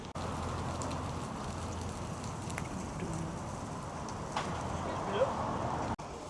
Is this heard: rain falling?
yes